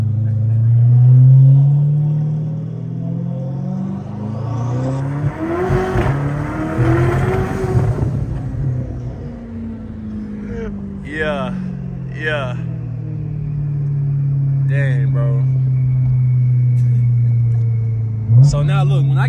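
A Chevrolet C8 Corvette engine mounted right behind the cabin rumbles and revs through several rising and falling sweeps, heard from inside the car beneath ongoing talk.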